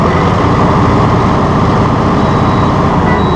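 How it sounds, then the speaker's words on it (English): A 2600 series tractor runs with a heavy-duty rotary brush mower attached, a loud, steady diesel rumble with a constant whirring drone, close and continuous without talk. "A smooth mower and this quiet 2600 series tractor doesn't require a lot of RPMs."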